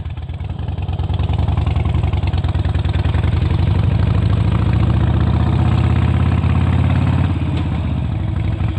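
A Harley-Davidson Forty-Eight motorcycle engine idles close by with a loud, steady, deep throbbing pulse that holds even and unbroken from start to finish.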